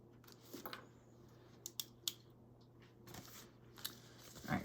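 Scissors snip loose threads off a freshly sewn tote bag, a few faint, sharp clicks and cuts scattered over a low steady hum, with no talking.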